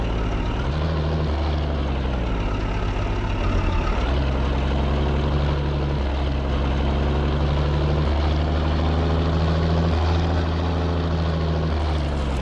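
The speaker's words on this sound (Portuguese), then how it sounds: "Caminhão a toda." A truck engine drones loud and unbroken through a video game, its pitch holding steady, then dipping briefly and climbing again as it runs at full speed along a winding road.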